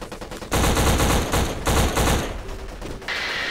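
Dense, loud bursts of automatic gunfire in a shooter video game campaign mission, sustained volleys crowding the whole clip with brief dips between bursts.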